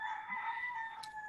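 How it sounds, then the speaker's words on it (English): A backyard rooster crows in a single sustained, slightly wavering call, faint and somewhat distant, with no talk over it. "people were probably hearing my rooster in the background, or my multiple roosters"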